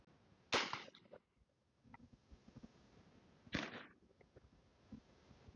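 A 37mm launcher firing non-explosive training projectiles outdoors, two sharp distant pops a few seconds apart over faint background noise.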